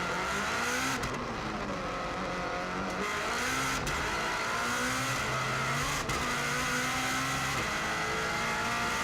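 Rally car driven hard on an Isle of Man road course, its engine roaring loud and close throughout with rising and falling revs, brief sharp cracks at gear shifts and no talking.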